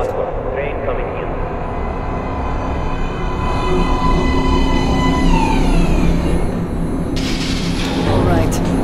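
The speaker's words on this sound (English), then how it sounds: "Please step away from the edge of the platform. Train coming in." In the Metro Last Light video game, a subway train rolls into a platform with a loud, sustained rumble and rising metallic whine, squeals building toward the end, while a voice speaks over it.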